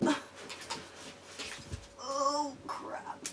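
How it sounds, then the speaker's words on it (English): Dog barking and whining in the background of a home, a few muffled yelps followed by a louder drawn-out whimpering cry near the end. "sorry if you guys can hear Ryder barking in the background."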